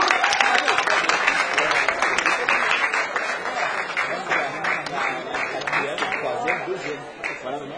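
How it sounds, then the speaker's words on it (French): An audience at the Miss Cameroun France pageant claps loudly and continuously, with dense applause and a voice carrying over the crowd throughout. "On peut les applaudir très fort"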